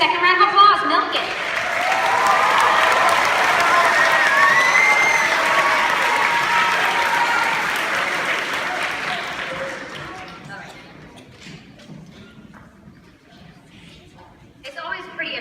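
An audience gives a middle school beginning band a sustained round of applause with some cheering mixed in, swelling and then fading out after about ten seconds, with voices talking at the start and end.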